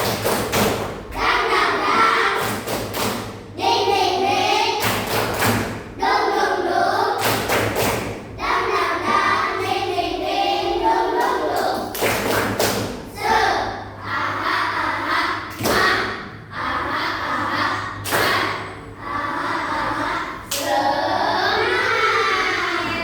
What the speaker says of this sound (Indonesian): Oke, ayo tepuk semangat.